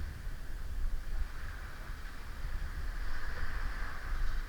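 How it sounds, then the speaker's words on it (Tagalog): Steady rushing wind buffets the microphone with a low rumble and broad hiss, continuous and fairly loud, on a fishing boat on open water off Nasugbu, Batangas, with no one talking. "Malakas yung hangin."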